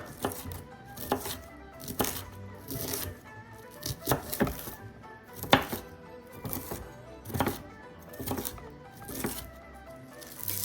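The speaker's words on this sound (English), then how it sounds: "Chop 100 grams of cabbage." A knife chops cabbage on a cutting board for gyoza filling, giving steady crisp knocks in an even rhythm close by with no talking.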